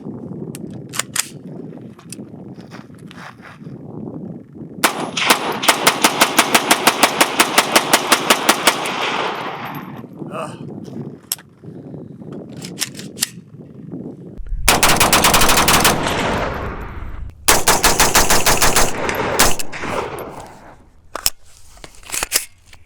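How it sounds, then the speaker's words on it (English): A PSA KS-47 rifle in 7.62x39 empties its magazine in fast, close, loud rapid-fire bursts, with rattling strings of shots separated by pauses and brief talk. "Let's do another mag dump."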